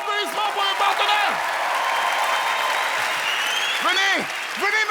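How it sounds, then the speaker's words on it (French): Stage-show applause from a magic-act audience, a dense continuous wash of clapping filling the whole stretch while a voice keeps calling out over it. "Un tonnerre d'applaudissements pour le partenaire"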